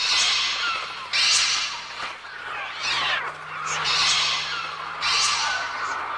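Harsh, screeching synthetic bird cries played on a Mixtur-Trautonium repeat in overlapping waves, shrill and aggressive, like a flock of shrieking birds rendered electronically.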